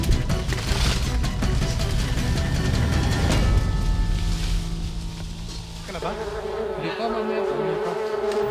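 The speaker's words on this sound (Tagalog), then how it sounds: "Sa wakas, nabulabog din ang mga insekto." Disturbed insects swarm and buzz as their nests are pulled away, a dense continuous drone heard close and loud, with voices talking over it and a tonal rise near the end.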